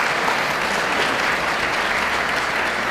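Audience applause at a panel event as a minister of industry and commerce is introduced: dense, continuous clapping from a crowd, steady and loud throughout with no pauses.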